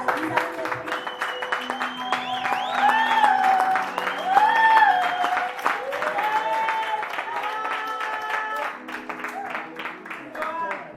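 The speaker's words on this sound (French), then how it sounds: "Nous allons acclamer pour la parole." A church congregation applauds and cheers, a sustained wash of clapping and voices with singing or shouted tones over it throughout.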